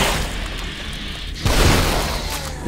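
A shotgun fires once in The Evil Within, giving a single loud, booming blast about halfway through a short stretch of low, murky ambience.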